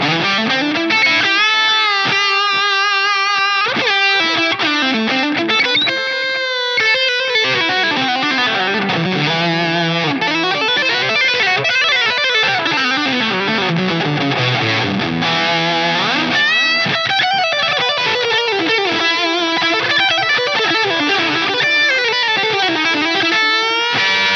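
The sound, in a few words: distorted electric guitar lead with delay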